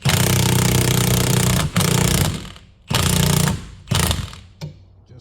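Ratchet wrench loosening a bolt on the front strut of a Jaguar F-Type R, heard as four loud, close bursts of rapid mechanical clicking separated by short pauses.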